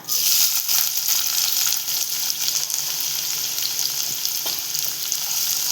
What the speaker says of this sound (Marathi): आता टाकते कांदा.